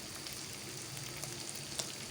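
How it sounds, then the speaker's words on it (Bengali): Chopped green and red capsicum stir-fry with garlic in a pan for chicken chow mein, giving a soft, even sizzle with a few faint crackles and no voices. "এভাবে আরও 1 মিনিট ভাজবো।"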